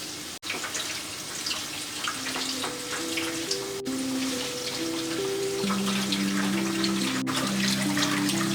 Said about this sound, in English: we're going to rinse them